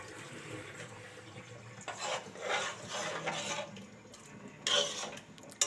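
About two cups of water go into a cooking pot for egg curry, a faint splashing pour in a few short bursts against a quiet kitchen background.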